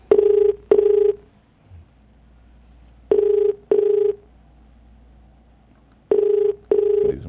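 A telephone rings in three bursts, each a pair of loud electronic rings separated by a few seconds of near silence.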